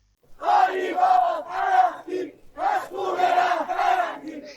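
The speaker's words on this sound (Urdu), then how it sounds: "مظاہرین نے شرم کرو اراکچی، ملک چھوڑ دو اور کالیباف اراکچی ہمارے رہبر کے خون کا کیا ہوا جیسے نعرے بھی لگائے" A street protest crowd in Tehran chants slogans in loud, rhythmic unison bursts of voices, pausing briefly midway before the chanting resumes.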